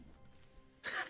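A single short, harsh burst near the end, like a quick cough or throat clear, loud against a quiet background.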